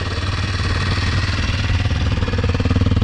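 A Kawasaki KLX230S motorcycle idles fairly high, a loud close thumping putter with a fast even pulse that grows slightly stronger toward the end, with no voices.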